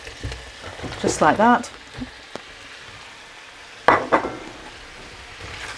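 Courgettes dropped into a curry sizzling in a pan, giving a soft, steady frying hiss under a voice, with a short clatter as they land.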